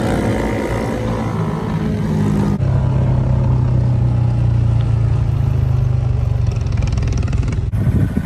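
Motorcycle engine held at steady high revs during a throttle hand drag wheelie, a loud sustained drone with a sudden shift in pitch and a clear cut-off near the end, no talking.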